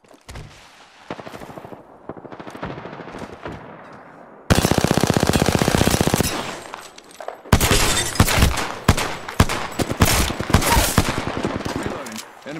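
Rapid automatic gunfire in the video game Apex Legends, with sniping heard as bursts of loud, dense shots that begin quietly, then hit hard in sustained volleys and heavy cracking blasts toward the end, with faint talk underneath.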